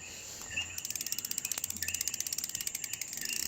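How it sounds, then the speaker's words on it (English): A cargo bicycle's drive ratchet clicks close up in a rapid, steady train of small metallic ticks, with a brief pause near the start and no voices. "there's also a ratchet right there. I guess you can hear it click"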